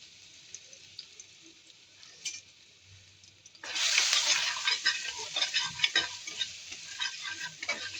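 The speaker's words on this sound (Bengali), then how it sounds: "রসুনটাকে একটু ভালো করে লাল করে নিব" Garlic paste frying in hot oil as fenugreek goes in for a sour curry, starting as a faint hiss and jumping to a loud, crackling sizzle about halfway through, close up with no voices.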